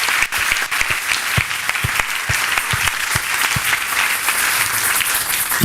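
A church congregation applauding during a Sunday service, dense rapid clapping that holds steady for several seconds at close range.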